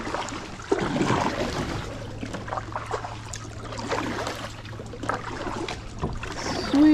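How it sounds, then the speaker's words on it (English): Paddle strokes from a Quest Teton fishing kayak on open water, with soft splashes and trickles over a steady low hum and wind noise, the sound close and moderately loud. "Let's go ahead and do the first paddle."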